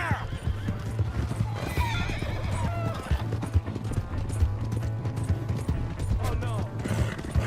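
A horse in Red Dead Redemption 2 gives a loud neigh and then gallops with rapid, rhythmic clip-clop hoofbeats, close and continuous beneath background music and game sounds.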